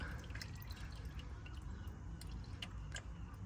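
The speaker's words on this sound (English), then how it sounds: "Right, we're just under here draining the oil out." Engine oil drains from the drain plug beneath a BMW X1 23d, a steady trickle of liquid with soft drips and squishy splashes, close by and fairly quiet, with no talking.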